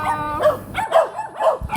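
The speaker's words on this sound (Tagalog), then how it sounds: "Tahol siya ng tahol." A small dog at a Christmas party gives a quick run of sharp, high yips and barks, several in under two seconds, loud and close with no talk over them.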